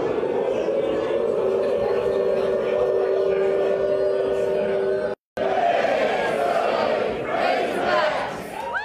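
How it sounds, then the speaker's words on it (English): Razorback fans cheer indoors at Bud Walton Arena in Fayetteville. A sustained, dense crowd roar with a droning tone is briefly cut off, then returns with rising shouts. "hear just how loud it is here at Bud Walton Arena in Fayetteville"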